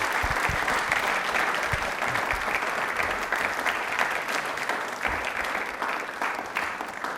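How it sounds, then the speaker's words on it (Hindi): Studio audience at a televised Hindi question-and-answer show breaks into sustained, even applause, many hands clapping close and steady throughout. "तालियां प्लीज एक बार जोरदार हो जाए मैम को।"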